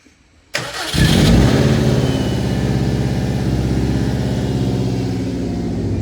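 A tuned Subaru WRX wagon fitted with ID1050 injectors cranks briefly, then catches and starts, settling into a loud, close, steady idle with a slightly lumpy rhythmic pulse.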